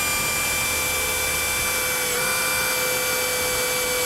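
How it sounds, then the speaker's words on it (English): A power drill boring out a hole in a Spitfire aircraft panel, a steady, loud high-pitched whine that holds constant with a slight dip in pitch partway through. "So this hole here needs to be drilled out."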